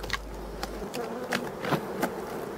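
Bees from neglected hives in a forest, kept on rotten wooden top bars, buzz steadily nearby with a few sharper passes close by, the hum continuing without pause and no voices over it.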